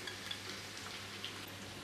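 Tempering of dried red chillies, turmeric and asafoetida frying in hot oil for a Maharashtrian dal, a steady soft crackle and sizzle close by with no talking.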